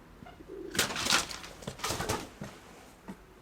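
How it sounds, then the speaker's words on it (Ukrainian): A young, late-season domestic pigeon coos softly in a few short bursts, with light rustling around it, close by. "Це хороша голубочка, дуже хороша голубочка."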